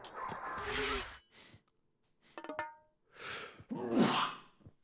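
A sharp sneeze-like burst stands among breathy sighs and gasps, with short bursts of voice between, fairly close and moderately loud.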